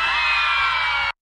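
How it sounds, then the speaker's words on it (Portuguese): A live forró show crowd screams and cheers in one loud, sustained roar of many voices that holds steady for about a second before cutting off abruptly. "Cadê o gritinho da galera?"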